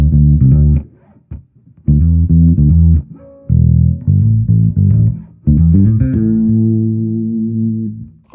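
An electric bass runs through an amp simulator, CLA-style bass processing and a vintage tube EQ. It plays a deep-house line of plucked, round, sustained notes in short phrases separated by brief gaps, ending on a long held note.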